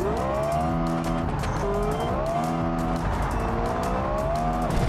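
A simulated car accelerating with heavy torque steer in BeamNG.Drive, its engine note rising and falling through gears in a loud, continuous whine with tire noise underneath.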